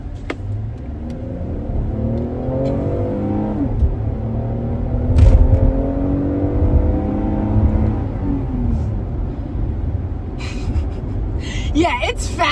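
A V6 car accelerates on a road in traffic, its engine note climbing in rising sweeps with a low rumble, while people talk inside over it.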